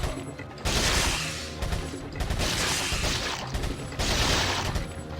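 Bursts of machine gun fire ring out in Resident Evil 4, three loud sustained volleys separated by short pauses, dense and close with no talking.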